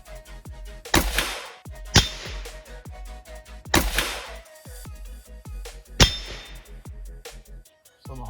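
A cheaply built rifle fires at an outdoor range: four loud, sharp reports spaced a second or two apart, each followed by a ringing, metallic clang that fades under quieter background noise.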